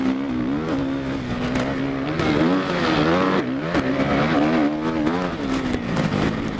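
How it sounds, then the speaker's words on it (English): Motocross dirt bike engine at a Deseret Peak RMX race in Tooele, Utah, revving hard and wavering up and down in a sudden panic rev mid-jump, loud and continuous with rising and falling pitch. "the panic rev on that one"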